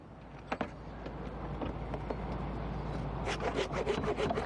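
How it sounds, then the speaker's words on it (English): Handsaw cutting through a tree limb during rigging work outdoors, a steady rasping scrape of strokes building toward the end with faint wood crackle, no voices. "I'm going to finish this up with my handsaw."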